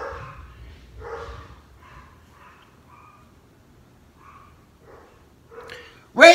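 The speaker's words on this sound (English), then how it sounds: "My other dogs are going crazy upstairs." Several dogs barking and yipping from upstairs in a house, muffled and intermittent, with bursts spread across the stretch and a louder sharp noise at the very end.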